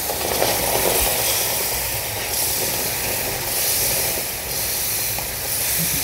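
Sugar water poured into a hot pan while cooking a gurdwara-style prasad, giving a loud, steady sizzling hiss that rises and falls in waves without letup.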